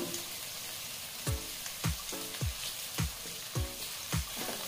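Onion, capsicum and chopped tomato with salt fry in oil in a pan, a quiet sizzle under a regular series of about seven stirring scrapes and knocks, close and evenly spaced.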